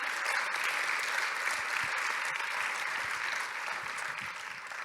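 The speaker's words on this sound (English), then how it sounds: "maybe hand of applause for everybody here" Sustained audience applause at a conference session thanking the technicians and organizers, a dense, steady patter of many clapping hands filling the room at even volume throughout, fading slightly near the end, with no voices over it.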